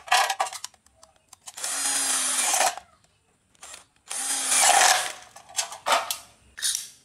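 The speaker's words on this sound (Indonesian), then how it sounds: "Lalu bor di kedua ujungnya juga." A power drill boring through hollow light steel tube whirs in several bursts of a few seconds each, loud and close, with short pauses and clicks between them.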